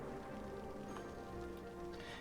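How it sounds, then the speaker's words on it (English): Rain falling in the Cities Skylines city-building game, a soft continuous patter and hiss of drops on surfaces, quiet and even with no talk. "we could turn off rain"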